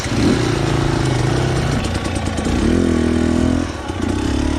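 Dirt bike engine running steadily on a hot Colorado singletrack trail, a loud close mid-pitched drone whose pitch rises and falls with revs and throttle changes, no talking.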